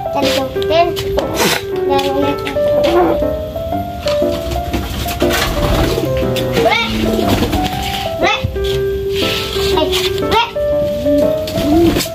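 Pigeons coo and flutter through steady busy noise while children talk and chatter over them, the birds' soft calls mixed in and partly masked by the voices.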